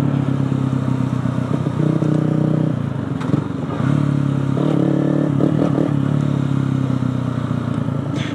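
A Yamaha YZF 125 four-stroke motorcycle engine runs close by, a loud steady throbbing drone whose pitch shifts slightly as the engine is blipped, with occasional mechanical clatter.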